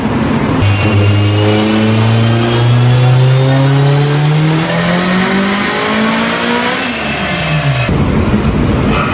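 A big-block Mitsubishi Evo9 with a PTE 64mm turbo revs hard through a full pass, its engine note climbing steadily in pitch for several seconds before dropping sharply, loud, close and unbroken, with no talking.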